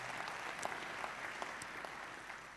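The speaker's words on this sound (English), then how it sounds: "So I think they deserve another small applause." An audience at Maker Faire Rome applauds a talk, a steady, fairly distant patter of many hands clapping throughout, with no voices standing out.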